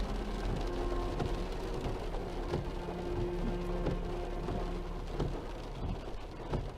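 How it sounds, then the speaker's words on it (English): Steady rain falling through a storm, a constant hiss with occasional sharper taps and a low rumble underneath, fairly faint and with no voices. "It had started to rain."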